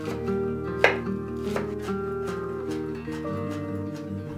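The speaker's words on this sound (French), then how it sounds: "on découpe les branches de cébette en fines rondelles" A knife slices spring onion stalks into thin rounds for Laotian sausages, giving a few sharp cuts against a board that sit under steady background music.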